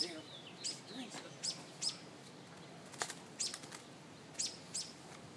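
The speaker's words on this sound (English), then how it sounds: "Bird stuck on a string on our tree back here." A small bird caught on a string in a backyard tree flaps its wings in repeated short bursts, each flurry brief and fairly close, separated by quiet pauses, with faint chirps between.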